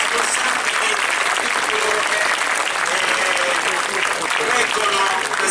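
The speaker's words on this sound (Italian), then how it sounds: "Facciamo un grande applauso." Steady, dense applause from an audience cheering a troupe of flag-wavers at a street parade for San Salvatore da Horta, continuous clapping filling the whole stretch with a faint murmur of voices underneath.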